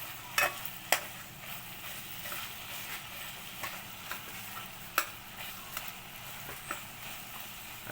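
Ingredients are stirred as they fry in a pan, with a steady sizzle underneath and sharp scraping clacks from a spoon against the pan at irregular intervals.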